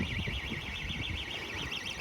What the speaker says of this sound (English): The intruder alarm is going off at KFC.